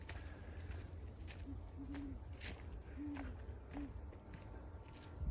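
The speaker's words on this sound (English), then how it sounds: "so was that owl right there?" An owl hoots outdoors, giving several short, low, soft calls in an irregular rhythm over steady background hiss and faint rustling.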